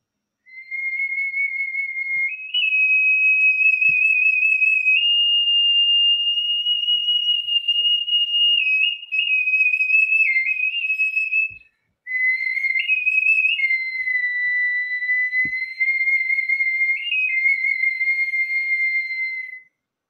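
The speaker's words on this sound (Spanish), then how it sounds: "Es un pequeño objeto que tiene dos silbatitos" Two tiny whistles built into a small scepter-like object sound in long sustained shrill tones, stepping between pitches with a brief break partway through, loud and alone with no voices.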